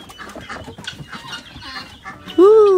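Turkeys and guinea fowl in a large wooden aviary give a busy jumble of clucks and chatter, ending in a loud, close, sharp call.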